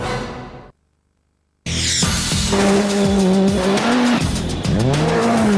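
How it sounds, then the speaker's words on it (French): A radio-controlled Subaru Impreza racing model in a French TV advert: after a brief silence, a loud, close engine whine rises and falls with tire squeals and skids, continuous to the end. "Prenez le volant d'un modèle de compétition radiocommandé."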